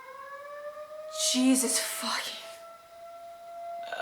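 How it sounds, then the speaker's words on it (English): A civil defense siren that sounds on the first Saturday of the month rises and holds as a steady, fairly distant tone. A person murmurs a brief exclamation as the siren swells in the middle. "a siren just went off. The every Saturday or first Saturday of the month siren"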